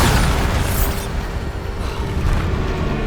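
Bombarda explosion spell cast in Hogwarts Legacy: a loud, dense blast rumbling continuously throughout, with a bright crackling burst near the start and no talk over it.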